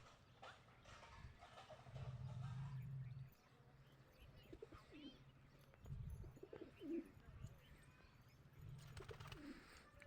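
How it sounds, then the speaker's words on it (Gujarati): Pet pigeons cooing in the morning after being let out of their loft, low repeated coos close by in several bursts, with rustling and scattered bird sounds between them. "આપણે કબૂતર ખોલ્યા છે સવારમાં"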